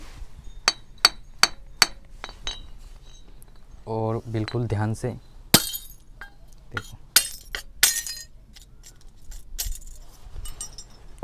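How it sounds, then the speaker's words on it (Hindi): An old, faulty light bulb's glass is cracked and smashed, giving a series of sharp clinks and taps followed by brittle breaking and tinkling fragments. Someone talks in between the impacts. "यहाँ पर मेरा एक बल्ब टूटा है, मतलब ख़राब है। तो हम इसको तोड़ेंगे सबसे पहले"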